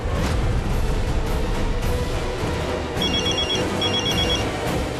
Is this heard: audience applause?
no